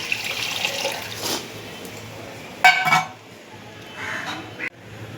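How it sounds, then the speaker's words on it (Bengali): Water pours from a tap or vessel into cooked masala for a rohu fish curry, a steady splashing flow with a few clinks of utensils and a brief sharp clatter near the end. "মশলা কষানো হয়ে গেছে, জল দিয়ে দিলাম ঝোলের জন্যে।"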